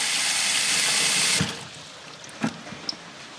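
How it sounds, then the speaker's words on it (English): Fresh water rushes from a tap into a pet's water dish as a loud, steady stream, then shuts off, leaving quiet dripping and small splashes, with no talking. "I'm gonna give Bud some fresh water."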